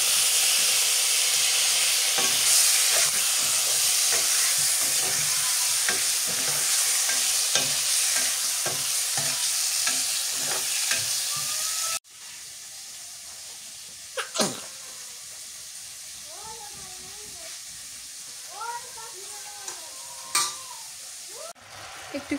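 Shing fish sizzle loudly as they drop into hot oil in a pan during village cooking. A dense, crackling fry runs for about twelve seconds, then settles into a quieter sizzle with occasional stirring sounds.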